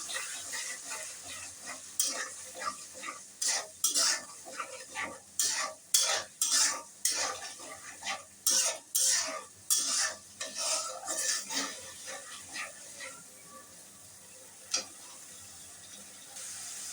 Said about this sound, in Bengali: এখন মশলাটাকে আমি সুন্দর করে কষিয়ে নেব।